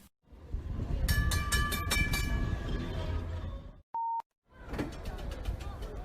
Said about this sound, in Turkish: Tramvay rayların üstünde hareket eder ve yolcu taşıma aracıdır.